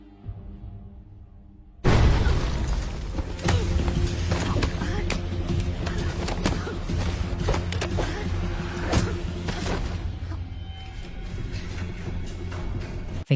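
A sudden loud bomb blast in a film breaks a quiet start, followed by sustained rumbling and scattered crashing debris.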